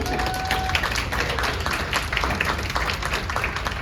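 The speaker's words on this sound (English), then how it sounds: "That was very polite, but let's clap one more time" An audience at the Nashville School of the Arts applauds a poetry reader, a dense, steady round of clapping from a modest crowd.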